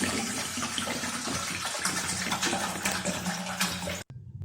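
One litre of water pours steadily into a large pot at home while a herbal kadha is prepared, a continuous close gushing splash that stops abruptly near the end.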